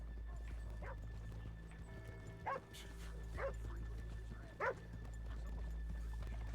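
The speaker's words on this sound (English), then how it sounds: "let's leave the horses here off the main drag" Horses in the video game Red Dead Redemption II neigh and whinny several times over a low steady background drone, with faint hoof clops and some distant barking mixed in.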